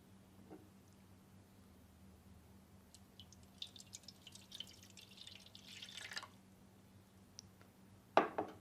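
Displaced water poured from a container into a pan on a weighing scale, a soft trickling splash building over a few seconds in a quiet room, then a couple of sharp clinks near the end.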